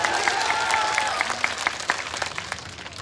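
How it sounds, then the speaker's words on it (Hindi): Crowd at a BJP political rally in Madhya Pradesh breaks into applause, a dense roar of clapping with sharp individual claps standing out and a faint voice briefly underneath. "अरे सही के तो तालियों की गड़गड़ाहट से बताओ"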